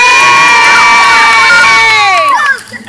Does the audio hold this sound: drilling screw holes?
no